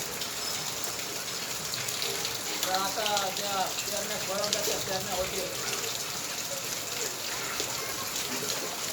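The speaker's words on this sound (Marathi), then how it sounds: "आज मुसळधार पाऊस पडतोय गावाकडे" Heavy downpour in a village, a constant broad wash of rain while someone talks over it for most of the stretch.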